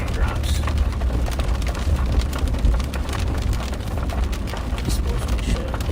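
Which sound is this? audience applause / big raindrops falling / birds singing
big raindrops falling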